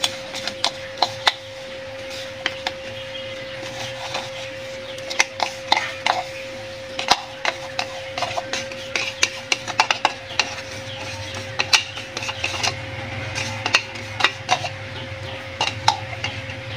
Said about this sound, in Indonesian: Kita ulek lagi guys.